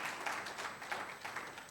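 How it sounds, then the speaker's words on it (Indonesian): A congregation applauds during a Sunday church worship service, a steady wash of many hands clapping at moderate level for the whole stretch, with no voices on top. "Berikan tepuk tangan lagi bagi Tuhan Yesus"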